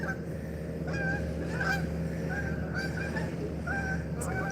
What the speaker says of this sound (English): Oh, the geese are going nuts.